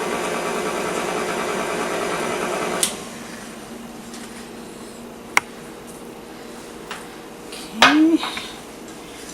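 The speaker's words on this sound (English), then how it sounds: "Mix that up a little bit there." A utensil stirs dry Irish soda bread ingredients with kosher salt in a bowl, giving a few sparse clinks and a brief scrape near the end over a steady kitchen hum.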